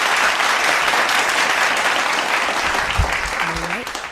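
Studio audience applause on a Filipino radio show's Christmas Day broadcast, dense and continuous, with a brief voice near the end.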